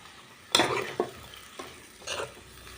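Chopped garlic and onion fry in hot oil and sizzle softly as a spoon stirs them, giving a few sharp scraping strokes against the pan in an uneven rhythm.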